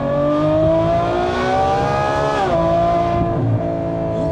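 A Ferrari F12 Berlinetta's V12 engine revs at night, loud and continuous, its pitch climbing steadily before dropping sharply and settling back to a steady drone, with no talking.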